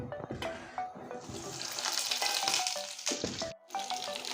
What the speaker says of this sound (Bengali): এখন আমি এই পটলগুলো ভেজে নেব তেলের উপরে ছেড়ে দিচ্ছি